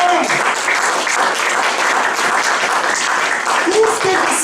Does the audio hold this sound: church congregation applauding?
yes